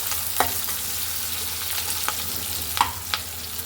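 Onions, coriander and curry leaves fry in a pan, a loud close steady sizzle with a few sharp clicks of a stirring spoon against the pan, and no voices.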